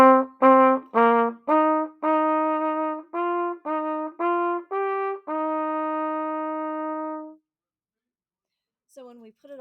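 Solo trumpet plays a short lesson line of separate notes that end on a long held tone, clear and close, followed by silence and a faint noise at the end.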